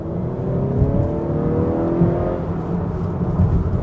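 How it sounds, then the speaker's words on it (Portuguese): A Honda Accord 2.0 Turbo engine revs up steadily under acceleration in sport mode, a smooth rising drone with a deep rumble and no voices. "Você ainda ouve o motor, né?"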